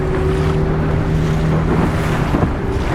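Waves rush and splash against a moving motorboat on a river in the Venezuelan jungle, mixed with wind buffeting the microphone and a low steady engine hum.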